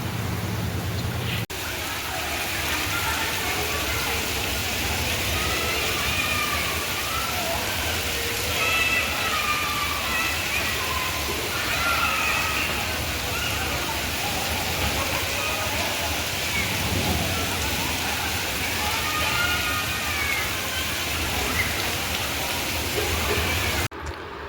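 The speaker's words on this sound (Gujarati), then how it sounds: "ગાંધીનગરમાં જોરદાર વરસાદ" Heavy first monsoon rain falls in Gandhinagar as a steady, loud, unbroken hiss of downpour lasting throughout, with faint voices beneath.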